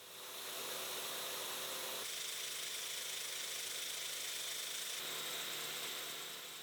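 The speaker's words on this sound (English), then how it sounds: "So I'll settle for some equally satisfying roughing milling." A milling machine takes a wide roughing cut, hogging away material at a very slow feed, giving a steady, loud, continuous grinding whir with a couple of slight shifts in tone and no talking.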